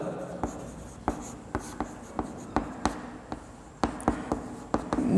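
A pen writes numbers on paper during a math lesson, making a series of quick scratchy taps and short strokes at an irregular rhythm, close up and fairly quiet, with faint talk in the background.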